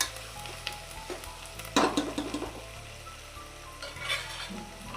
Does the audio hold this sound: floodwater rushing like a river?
no